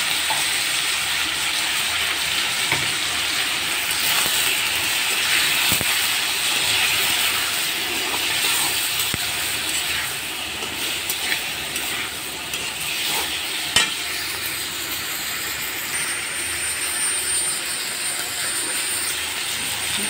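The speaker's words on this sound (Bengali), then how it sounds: "মশলা কষানো হয়ে গেছে" Spices with chili, turmeric and salt sauté in a pan for a pabda and tengra fish curry, giving a loud, steady sizzle with occasional stirring scrapes and no voices.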